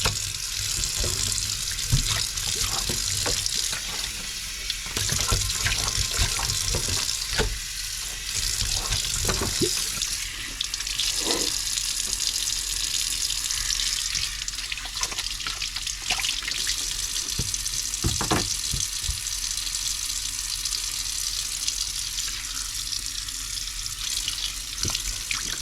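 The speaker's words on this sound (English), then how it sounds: "Rinse them off." Cured bacon slabs, salt and brown sugar cure with no nitrates, rinsed under a running kitchen tap: a continuous hiss of flowing water, broken by splashing and irregular surges where the slabs pass through the stream.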